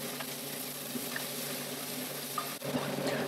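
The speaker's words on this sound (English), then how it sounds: "and keep stir frying." Bean paste with ginger and garlic stir-fries in a wok for home-style tofu, a steady quiet sizzle with faint scrapes and one brief clatter near the end.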